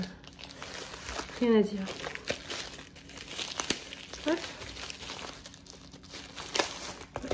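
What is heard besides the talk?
crinkling plastic packaging pouch being opened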